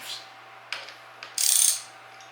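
A ratchet wrench tightening a handlebar riser bolt on a 2019 Hayabusa motorcycle, a few close mechanical clicks followed by a quick burst of rapid ratcheting.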